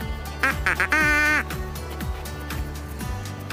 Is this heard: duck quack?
yes